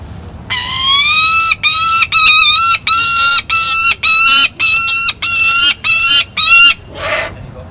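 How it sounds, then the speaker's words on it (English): An imprinted falcon calls insistently, about ten harsh, drawn-out wails in a steady rhythm, close and clear, ending with a softer rasp. "when you have a falcon that's an imprint, they will be quite noisy, a bit like this"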